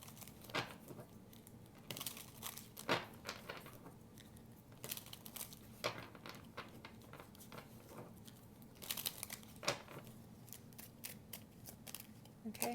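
Tarot cards shuffled by hand for a pick-a-card reading, giving a run of crisp riffling snaps and papery flicks in irregular bursts, close and fairly quiet over a low steady room hum.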